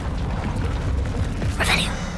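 The Confringo blasting spell in Hogwarts Legacy goes off as one brief, bright crackling burst late in the moment, rising out of a dense, rumbling background of game ambience.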